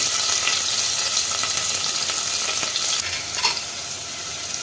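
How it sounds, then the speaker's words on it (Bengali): Chopped garlic and onion sizzle steadily in hot oil with asafoetida in a pan for spinach mixed dal; the dense frying hiss runs throughout, easing slightly partway with a brief stir. "দেব পেঁয়াজের টুকরো কুচিয়ে রাখা পেঁয়াজের টুকরো এগুলো দিয়ে আমি একটু ভাজব"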